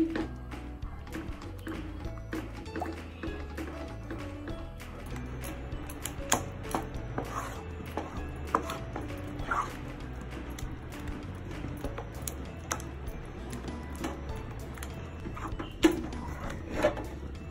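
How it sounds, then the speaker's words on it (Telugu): A spoon works thick rice-flour batter around a kadai over low heat, giving irregular scraping and clicking knocks against the pan with no talk. "ఇది ఉండలు కట్టకుండా తిప్పుకోవాలి"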